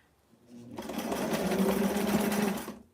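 A sewing machine runs a steady back stitch along a Barbie doll's square dance dress, a close, continuous whirring motor and needle hum lasting about two seconds before stopping, with no talking.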